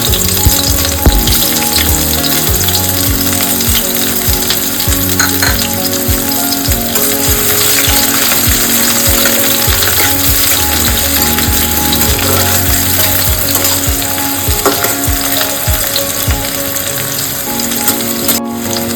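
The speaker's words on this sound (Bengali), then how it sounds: "এবার এই তেল গরম হয়ে গেছে। এবার আমি পেঁয়াজ কুচিটা ছেড়ে দিলাম।" Chopped onion fries in about two teaspoons of hot oil for a chicken vindaloo, giving a loud, steady, close sizzle that crackles continuously throughout with occasional faint stirring.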